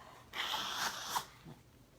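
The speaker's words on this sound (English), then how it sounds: "I've been sneezing and blowing my nose like crazy" A single sharp sneeze bursts out, followed by a brief snort-like breath, fairly close and otherwise quiet.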